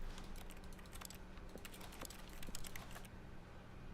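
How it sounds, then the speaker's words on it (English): Rapid clicking from The Stanley Parable, a string of sharp, close taps that sound like keyboard or mouse keys, coming in quick irregular bursts over a low steady hum and then stopping near the end. "Clicking just makes a sound."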